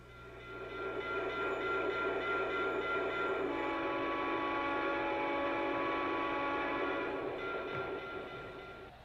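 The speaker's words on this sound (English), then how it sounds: "He operates pre-war, post-war, and modern Lionel" A Lionel model electric train hums steadily along the track, its motor whirring with a constant drone that swells and fades, alone without voices.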